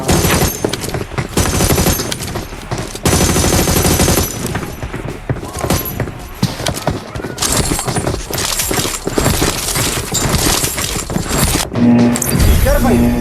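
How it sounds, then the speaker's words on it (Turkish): Rapid AUG rifle fire in PUBG Mobile, dense, loud bursts of shots running almost continuously, with brief gaps between volleys and a voice speaking in places. "Abi silah sesine baksana ya."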